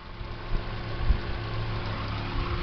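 A Toyota Corolla Type S engine idles quietly and steadily with a low, even hum, close by and alone, with a brief soft thump partway through.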